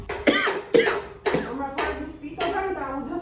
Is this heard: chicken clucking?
no